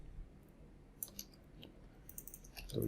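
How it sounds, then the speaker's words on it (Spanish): Computer mouse clicks while working in Maya 3D software, a few faint sharp clicks over quiet background noise, with no talking. "Doble clic acá"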